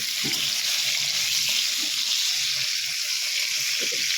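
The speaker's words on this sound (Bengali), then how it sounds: "তাই ঝিঙাটা ভেজে দেবো রুটি দিয়ে।" Small ridge gourd fries in a pan with a constant, fairly loud sizzle, with a few faint stirring knocks underneath.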